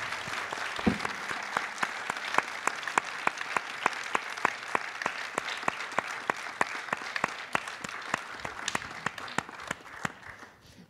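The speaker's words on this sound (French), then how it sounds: "je crois qu'on peut les applaudir très fort pour leur prestation" An audience applauds performers at a public talk, a dense wash of clapping with one steady, rhythmic clapper standing out, sustained for several seconds before tapering off.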